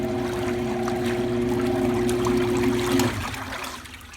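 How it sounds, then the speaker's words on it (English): The impeller of an Axe AT25 agitating hot tank churns water, giving a steady motorised hum under rushing, splashing water. It is loud and continuous, then drops off abruptly near the end. "The impeller goes down in there and pushes out water down a trough. I'll agitate this tank for you."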